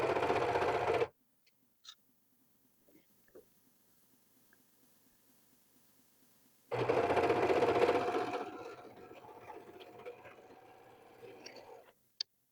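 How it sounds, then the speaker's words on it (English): A sewing machine stitches around a quilted sweatshirt sleeve in two loud, steady bursts of rapid whirring, separated by a long quiet pause with faint clicks and handling noises. "you want to sew this all the way around"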